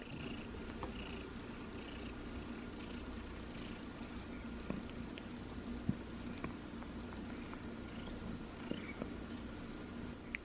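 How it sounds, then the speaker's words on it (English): A cat purrs softly and steadily up close, a low rumbling drone with faint rustling and small clicks in the background. "Can you hear her purring?"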